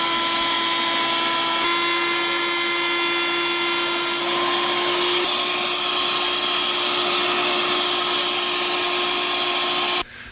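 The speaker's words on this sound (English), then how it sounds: "Joining makes a lot of chips, so we're vacuuming right at the cutter." A shop vacuum runs at a wood router's cutter, pulling in chips during an edge-joining cut against a Formica-faced fence. It gives a loud, steady whine with strong tonal hum, then cuts off abruptly near the end.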